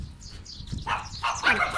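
Dogs barking along a road on a van trip, a few sharp yips and barks rising toward the end of the clip at moderate distance, with faint voices in the background.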